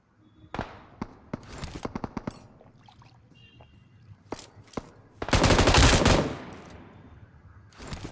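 Gunfire in a battle royale shooter game: scattered single shots and quick bursts, then a sustained loud stretch of automatic fire lasting about a second, followed by a few more isolated shots, all close and with no talking.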